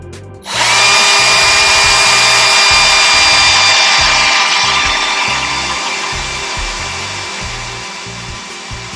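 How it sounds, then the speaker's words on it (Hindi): A Bosch GSB 120LI cordless drill bites into an old expander in drilling mode, a loud whirring whine that starts abruptly and holds steady before slowly easing off in level. "तो हम उसको ड्रिल करके देखते हैं।"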